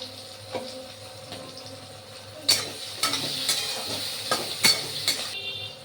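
Steady sizzling of eggplant with a little salt and turmeric frying in a pan, with sharp clinks and scraping from stirring in the second half.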